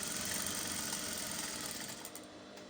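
A sewing machine stitches the side seams of a fabric wrap top with a steady, fairly quiet whirring run that eases off slightly toward the end.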